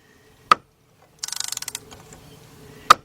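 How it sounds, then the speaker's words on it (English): A ratchet wrench, used while replacing the power steering pump on a Ford Focus or Transit Connect, clicks in a quick close burst of about a dozen pawl clicks, with two sharp metallic knocks before and after. "you see how the ratchet clicks"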